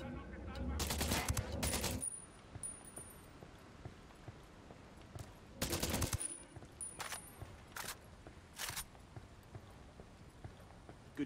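Gunfire from the video game Ghost Recon Wildlands: a sustained automatic burst up front, another burst a few seconds later, then several short sharp single shots spaced apart over a quiet, faintly rumbling background.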